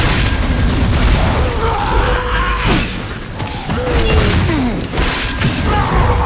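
Grenade explosions in Gears of War 3 King of the Hill online match: loud, dense booms and rumbling blasts overlapping for several seconds with debris crashes and shifting tones.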